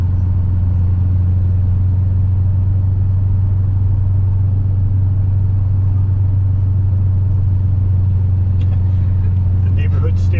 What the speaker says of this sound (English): And you get to hear like the supercharger sounds.